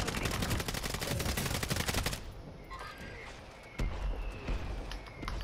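Gunfire in a Call of Duty Warzone Rebirth quads match: rapid bursts of automatic fire for the first two seconds, then scattered single shots farther off.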